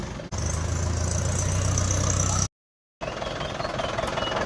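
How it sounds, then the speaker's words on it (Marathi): A tractor engine on the foggy Malshej Ghat road idles and rumbles steadily nearby with a low hum, cut by a brief silent gap before the running continues. "समोरून ट्रॅक्टर आलेला आहे"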